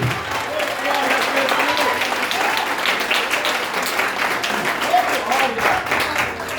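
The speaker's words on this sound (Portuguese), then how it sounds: "salva de palmas para Jesus" A church congregation breaks into loud, sustained applause during a Portuguese-language service, a dense wash of clapping with voices calling out over it.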